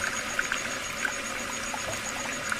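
Water runs steadily from a wash basin tap indoors, a faint continuous hiss and trickle with a few soft splashy ticks, heard alone without voices.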